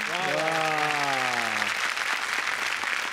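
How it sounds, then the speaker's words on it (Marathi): Steady applause from a studio audience at a Marathi comedy show, continuous clapping throughout, with a voice briefly speaking at the start. "जोरदार टाळ्या झाल्या पाहिजेत"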